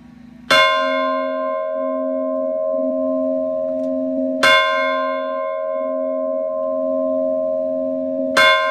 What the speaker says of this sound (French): Deville, cloche 3.